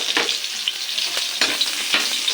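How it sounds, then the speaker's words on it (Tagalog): Garlic fries in oil in a pan with a bright, crackling sizzle and intermittent scraping stirs, loud and close, with no voices. "Ilagay natin ang bawang dito sa pinagprituhan"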